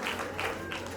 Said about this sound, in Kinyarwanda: Amashyi rwose.